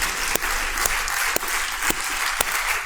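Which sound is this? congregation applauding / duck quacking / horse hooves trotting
congregation applauding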